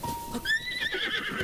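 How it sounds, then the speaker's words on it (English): A horse in The Legend of Zelda Breath of the Wild gives a short, fairly faint whinny that rises then wavers, lasting about a second. "Horses!"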